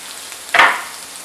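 A garlic clove dropped into a hot frying pan gives a single sudden, loud sizzle that flares up and then fades within a fraction of a second, against a quiet background.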